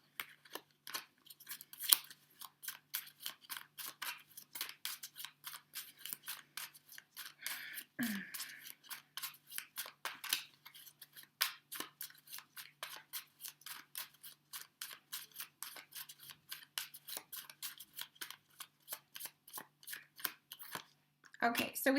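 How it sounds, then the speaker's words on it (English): A deck of tarot cards is shuffled by hand, giving a long run of quick, light card taps and slaps in a steady rhythm, close but soft, with a faint voice now and then. "I'm going to give these cards a good shuffle"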